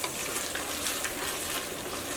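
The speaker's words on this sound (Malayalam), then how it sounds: "ഒരു 2 മിനിറ്റ് ഒന്ന് നന്നായിട്ടൊന്ന് ഇളക്കി കൊടുക്കാം" A thick potato mixture being stirred in a pan on the stove, a steady hissing sizzle with soft scraping, continuous and close with no speech.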